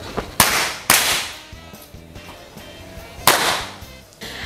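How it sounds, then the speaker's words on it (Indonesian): Air rifle shots fired at targets in an air rifle shooting contest: several sharp, loud cracks at uneven intervals, each with a short ringing tail, heard alone without talk. "penembak akan memulai menembakkan target yang ada di depan"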